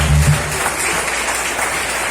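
A congregation applauds in a Portuguese-language church service, a steady, fairly loud wash of clapping with a low rumble at the start, continuing without talk through the short stretch.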